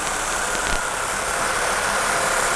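A Jeep engine idles steadily just after a fuel injection install, a continuous close mechanical hum with a slight unevenness and no talk over it.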